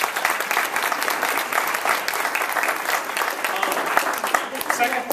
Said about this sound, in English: If you enjoyed this evening, if you took anything away, please give Wu a round of applause